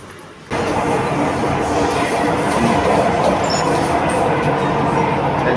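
A Chennai metro train runs through an underground subway with a steady loud rumble of wheels and rail noise that starts abruptly and continues without pause.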